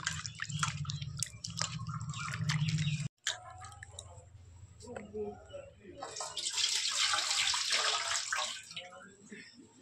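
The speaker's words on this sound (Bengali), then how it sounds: "নিয়ে এবার ধুয়ে পরিষ্কার করে নেব।" Cut potatoes are washed in water in a kitchen, with splashing, sloshing and dripping heard close up, first alongside a low hum and then as a louder stretch of rushing water.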